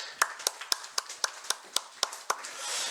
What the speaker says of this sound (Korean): 우리 격려 박수 하겠습니다.